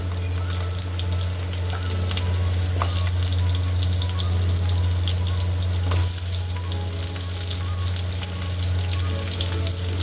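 Potatoes fry in hot oil in a home kitchen, a steady loud sizzle holding for the whole stretch under a constant low hum, with scattered crackles and small clatters on top and no voices.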